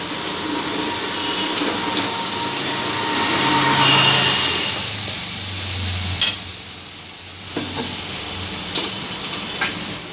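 Spice masala fries in a pan with dried coconut powder added, giving a steady close sizzle with occasional stirring scrapes and brief clatters, the frying quieting toward the end.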